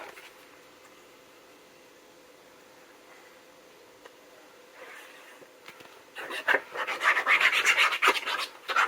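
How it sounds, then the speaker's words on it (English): Folded paper being burnished flat for a scrapbook album, a soft rubbing that starts faintly and turns into a louder, rapid rasping scrub in the last few seconds. "Fold it in half, burnish it down"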